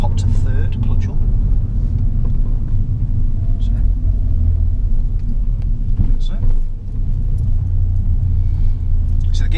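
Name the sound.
learner car engine while shifting up to third gear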